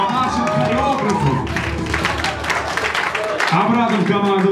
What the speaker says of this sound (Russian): аплодисменты нашим свидетелям